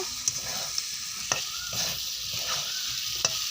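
Onions fry in a pan with chicken and spice paste, sizzling steadily while a spoon stirs and makes a few sharp scrapes and taps close by.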